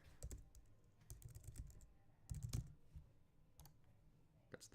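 Quick, dry clicks and taps from a computer setup while adjusting folder permissions, a run of close, crisp clicks in uneven bursts with short gaps, no talking.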